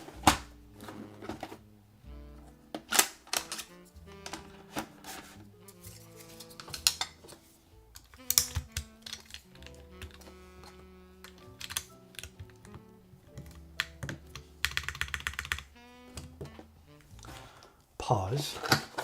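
Rapid clacking of a mechanical keyboard with GMK keycaps, heard up close in uneven bursts with brief pauses, along with a few sharper clinks and some talking in the room.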